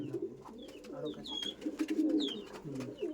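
Pigeons coo steadily in a breeding loft kept by a tournament racing-pigeon fancier, low throaty calls overlapping continuously at close range, with faint chirps above and no talk.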